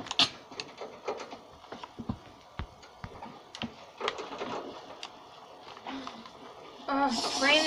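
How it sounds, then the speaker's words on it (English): Rain pattering outdoors in light, irregular taps and drips at a steady middle distance, with scattered louder drops and a brief burst of voices near the end. "Oh, it's raining again."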